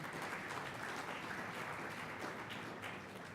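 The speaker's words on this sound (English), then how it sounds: "They deserve, once again, a round of applause, a big hand for my colleagues." Steady applause from the audience at a high-level corporate dialogue session, a continuous dense wash of clapping at a fairly distant, low level.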